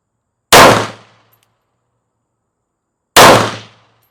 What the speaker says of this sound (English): Now we're going to do 5 shots with the 80x Cheetah.